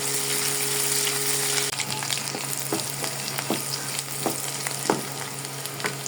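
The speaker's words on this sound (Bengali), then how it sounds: "এখন চিংড়ি মাছগুলো দিয়ে দেব। দিয়ে আরও একটু ভেজে নেব।" Prawns frying with onions in a pan, a close, steady sizzle with a series of scraping stirs and light clicks from the utensil, fairly quiet and without speech.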